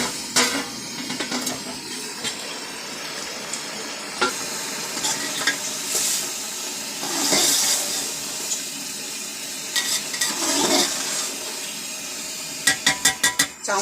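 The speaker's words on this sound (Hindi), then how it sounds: "ये देखिए एक तरफ से सिक गई है, मैंने इसको पलट दिया है और उसको मैं 10 मिनट के लिए और रख दूंगी" Chicken pieces for an Arabic-style Chicken Mandi sizzle in a pan after being turned over, a steady close frying hiss that swells and dips, with brisk utensil clatters near the end and no talking.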